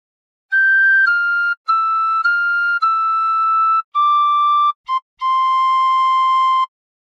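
Tin whistle, also called a penny whistle, plays God Defend New Zealand, a clear, pure-toned melody of several sustained notes separated by short breaths, loud and close with no talk.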